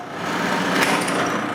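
A drill bores into small maple wood blocks, giving a steady, high-pitched whine of the motor and bit close by, sustained through the brief moment without a break.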